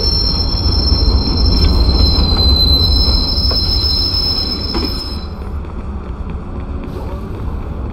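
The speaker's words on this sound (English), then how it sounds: "Southbound train arriving shortly." A train in the Watch Dogs video game pulls into a station, with steady loud rumble and high, sustained wheel squeal that cuts off partway through, the rumble continuing alone.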